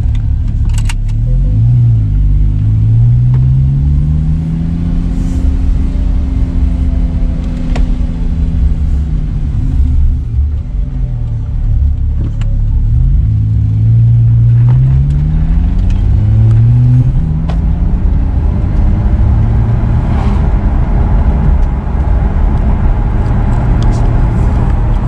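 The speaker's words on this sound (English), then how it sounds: "Take a little drive, obviously slowly because the engine oil is still cold." A 2015 Porsche 911 4S (991) driven slowly with its engine oil still cold, a steady low engine rumble with gentle rises and falls in revs, heard from close by.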